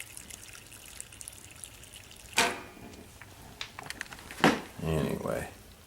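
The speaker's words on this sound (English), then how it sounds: "I'm going to put some more water in here" Water poured into a steaming cooking pot on the stove, with short splashing bursts partway through and a longer trickling pour near the end, close and moderately loud over a quiet background.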